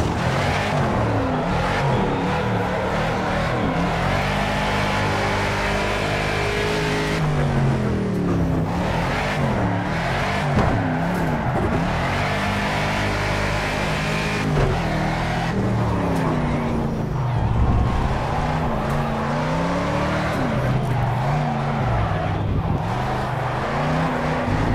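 Mercedes 300SEL 6.8 AMG racing at Greenwood in Project CARS, its engine revving continuously with rising and falling gear sweeps, loud and close throughout with no talk.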